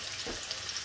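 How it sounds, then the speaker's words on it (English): Beef sears in a pan, a brief soft hiss of sizzling fat, steady and moderately faint with no talk. "that is the last bit of searing off I need to do"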